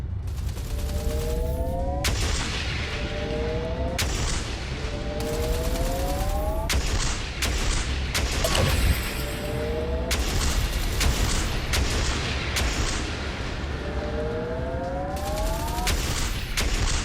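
In the space-combat game Everspace 2, booming torpedo explosions hit again and again in heavy bursts over a constant loud rumble of engines and battle noise, with rising and falling tones sounding between the blasts.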